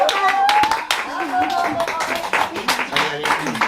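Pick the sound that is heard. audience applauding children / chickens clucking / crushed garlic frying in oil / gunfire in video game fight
audience applauding children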